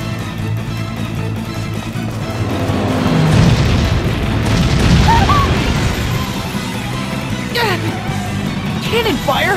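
Cannon fire booms and crashes in the video game Bravely Default, heavy blasts and impacts rolling loudly beneath a busy game soundtrack.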